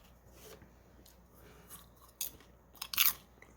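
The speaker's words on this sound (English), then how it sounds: "I also have some popcorn over here" Someone chews popcorn close to the microphone, giving soft crunches that build to a few sharper bites near the end, with no talking.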